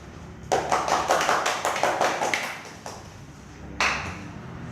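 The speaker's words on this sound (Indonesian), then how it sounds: "Beri tepuk tangan kalian semua" A classroom of young students clapping together in a burst of uneven claps for several seconds, trailing off, then one brief clap-like tap near the end.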